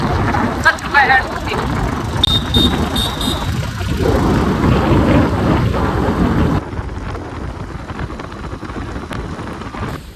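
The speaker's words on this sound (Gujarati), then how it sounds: "વરસાદ તો હજી ચાલુ જ છે" Heavy rain pours down loudly with rumbles of thunder, a dense continuous wash that drops to a softer patter near the end, with voices talking through it.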